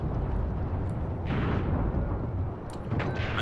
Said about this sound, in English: We are getting some artillery also hitting our position